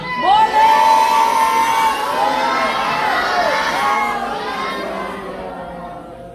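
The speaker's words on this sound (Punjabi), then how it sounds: "ਸੋ ਇੱਕ ਜੈਕਾਰਾ ਇਸ ਬੱਚੀ ਦੇ ਨਾਂ ਦਾ ਜੀ" A crowd of children and adults at a Sikh Gurmat camp prize distribution shouts a jaikara cheer in a girl's honour, a loud burst of massed voices that gradually fades.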